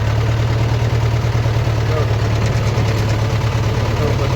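A farm tractor engine runs at a steady idle nearby, a loud, constant low rumble that holds without change throughout.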